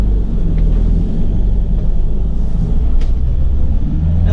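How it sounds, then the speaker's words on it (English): A new-shape Ford Transit tipper truck's diesel engine idles close by with a loud, steady low rumble and no voices. "let's get the engine started up. There we go. As you can see, it started up straight away."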